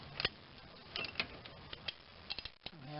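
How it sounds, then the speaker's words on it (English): A 1/2 inch ratchet with a 3/8 inch deep well socket and adapter works a 14 mm starter bolt on a 1.8L Toyota Corolla, giving faint, scattered clicks and ticks of the pawl in short bursts. "what proved to work here is this 1/2 inch ratchet, 3/8 inch deep well"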